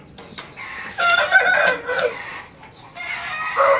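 Thai Aseel chickens and other fowl clucking and crowing in a coop, with several bursts of fairly close calls separated by short pauses.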